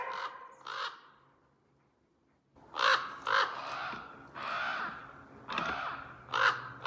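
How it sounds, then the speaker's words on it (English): Several loud caws from a crow up in the trees near a remote cabin in the early morning, coming in separate bursts with a quiet gap between them. "a crow I could do without at 5 in the morning"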